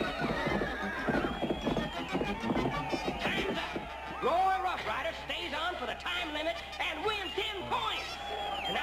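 A cartoon bucking bronco at a rodeo bronc-riding event gallops with rapid clip-clop hooves and lets out loud, wavering neighs. Lively voices are heard over it.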